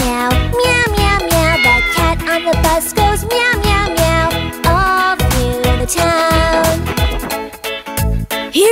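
A cat meows in a children's cartoon, heard over continuous bright music with jingling tones that runs loud through the whole stretch.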